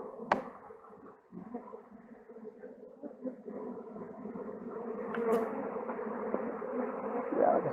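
A low, droning buzz of agitated honeybees fills the air close by during a spring hive inspection, swelling slightly louder toward the end, with a couple of sharp knocks.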